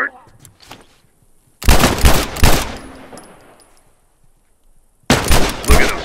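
Rifle gunfire in The Last of Us, two loud close bursts of rapid shots separated by a few seconds of near silence, each burst a tight cluster of sharp cracks with a fading tail.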